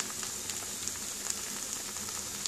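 Ghee sizzles in a pan while polao cooks, a steady, fairly quiet hiss with small crackles scattered throughout and no voices.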